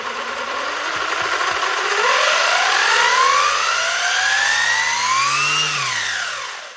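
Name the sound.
Traxxas Slash 4x4 RC truck motor running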